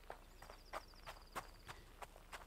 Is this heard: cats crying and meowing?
no